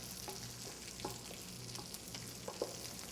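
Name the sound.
stirring gravy in a pan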